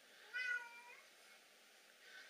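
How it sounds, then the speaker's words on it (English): A cat meows once, faint and close, in an otherwise quiet room, followed by a softer trailing note. "That's my cat, Merlin."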